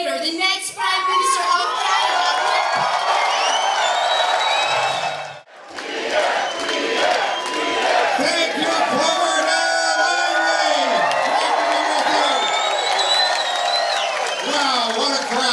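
A large crowd at a Conservative political rally in Surrey cheers, whoops and shouts loudly and continuously, with a brief dip partway before the roar swells back up.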